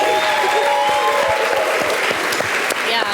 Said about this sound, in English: big round of applause for Brendan, okay?